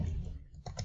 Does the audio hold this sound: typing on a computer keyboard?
yes